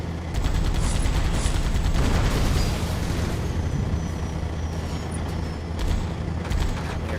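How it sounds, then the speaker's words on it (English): Incoming mortar fire in Halo 2, a continuous rolling barrage of loud, dense booms and gunfire-like cracks with scattered sharper blasts, close and sustained throughout. "It's intimidating seeing 2 mortars coming at you."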